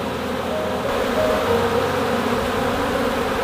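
A crowd of honeybees drinks from a large water basin with twigs in it at an apiary, making a dense, continuous buzzing hum that stays steady and close throughout, with no talking.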